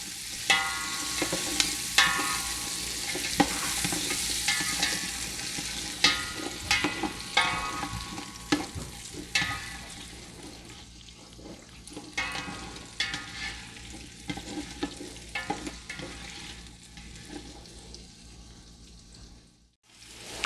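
Chopped onions sauté in a pan with a bright crackling sizzle and frequent stirring clatters that grow sparser and quieter toward the end, with no voices.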